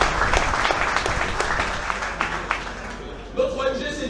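Applause from a crowd at a political speech rises and thins out over several seconds, individual claps becoming distinct before a voice begins speaking over the fading clapping.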